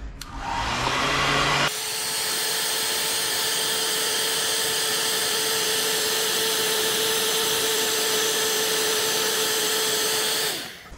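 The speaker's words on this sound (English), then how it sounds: "Thank you, Emily, for letting me use your hairdryer." A handheld hairdryer running close by in a garage during car wiring work: a click, then a steady loud whine with a strong motor tone that holds for about nine seconds before switching off.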